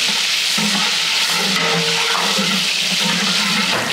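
Pineapple chunks dropped into hot biriyani masala of cloves and black pepper in a pan, giving a loud, continuous close sizzle and hiss with faint stirring and no voices.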